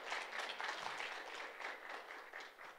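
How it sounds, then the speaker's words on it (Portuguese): Faint, distant audience applause at an architecture lecture, a steady patter of many hands clapping throughout, quiet but continuous. "Uma salva de palmas para ele também."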